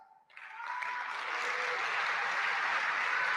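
Applause from an audience at an award ceremony, building quickly after a brief tone and then holding as steady, dense clapping for several seconds.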